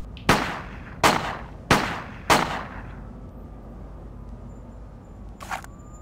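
Four sharp gunshots ring out about a second apart in a comedy assassin scene, each a loud close crack with a short decaying tail, followed by quiet room tone and a brief faint noise burst near the end.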